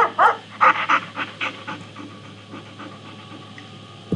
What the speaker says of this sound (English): These dogs seem really friendly.